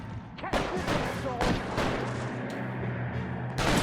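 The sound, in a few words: gunfire in the video game L.A. Noire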